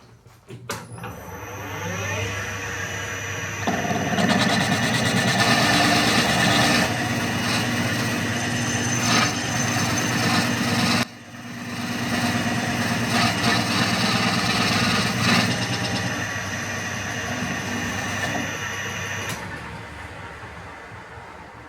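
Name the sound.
Hercus slotting machine making a proof cut on a bronze bearing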